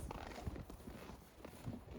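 Hooves of a Rocky Mountain Horse mare walking on the ground, soft irregular clip-clop steps at close range over a noisy, faint background.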